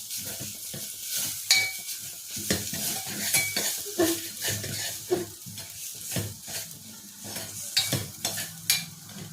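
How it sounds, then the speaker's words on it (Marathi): Spices with turmeric fry and sizzle in a pan while a utensil stirs them, giving repeated rhythmic scraping and clinking strokes over a continuous close sizzle, with no talk. "आता हे 1 मिनिटभर फिरून घेऊयात सगळे"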